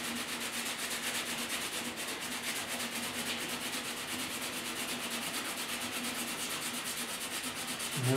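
Steady, continuous abrasive sanding of paint on a 1967 Chevy hood, a broad hissing scratch that holds at an even level throughout, close up with no voices.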